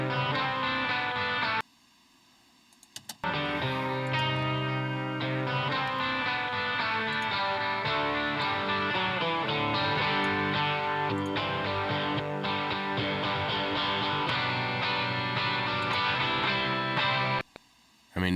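Electric guitars run through a Slate Digital FG-Stress compressor plugin play a dense, sustained chordal part, dropping out briefly near the start and again just before the end.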